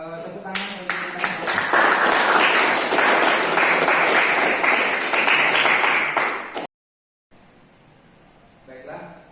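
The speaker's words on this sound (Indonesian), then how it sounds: "Tepuk tangan untuk kita." Group applause breaks out in a classroom discussion session, dense steady clapping from many hands for about six seconds before stopping abruptly, followed by a quiet room.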